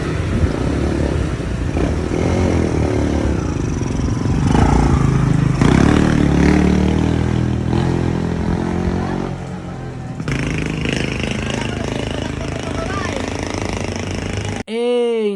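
A restored Shogun Pro motorcycle engine runs continuously and loudly up close, its rough idle revving and shifting in pitch, ending with an abrupt high sweeping sound.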